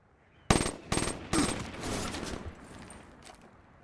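Gunfire in Black Ops 3 Search and Destroy, three sharp close shots about half a second apart followed by a longer burst of rapid fire that fades into a quiet tail.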